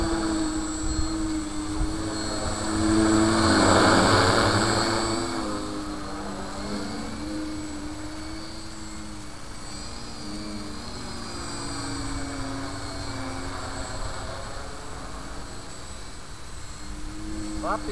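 An X600D quadcopter drone with a MultiWii flight board hovers and flies nearby, its rotors giving a steady high whine and buzz that swells briefly then holds, with faint voices in the background.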